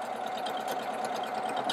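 A Husqvarna Viking Jade 20 sewing machine stitches a buttonhole with a fast, steady mechanical whir and rapid needle chatter, close and continuous with no talking.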